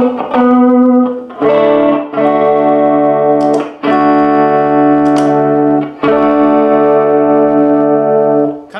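Sustained electric guitar chords and notes with a shimmering chorus effect and reverb tail, played loud and alone in several long phrases.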